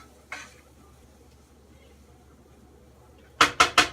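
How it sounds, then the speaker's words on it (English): A spoon stirring sloppy joe ingredients in a pan: one soft scrape early on, then a quiet stretch, then three sharp, close knocks in quick succession against the pan near the end. "Give this a nice stir."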